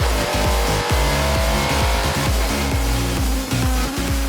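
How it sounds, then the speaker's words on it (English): Race cars battle closely at a Supercar Challenge round on the Assen circuit, engines loud and near with repeated sharp gear-change drops and revving climbs, tyres squealing at times, with no talk. "it's the simple case of two cars in one bit of track, and Jan Verslijs s"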